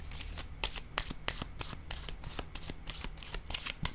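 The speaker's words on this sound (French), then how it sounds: "Je pense que je vais déposer une autre carte rose." Tarot cards riffle and snap in a steady run of crisp, close flicks and taps as the deck is shuffled and cards are laid down, with no voice over them.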